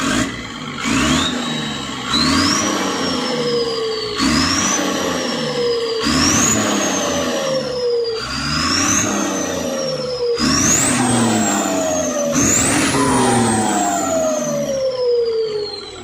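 Isuzu Rocky six-wheel truck with a 6BD1 diesel engine and straight exhaust, no muffler, revved hard in repeated rising bursts about every two seconds, loud and close, each climbing whine dropping back before the next.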